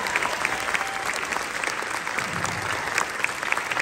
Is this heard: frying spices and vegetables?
no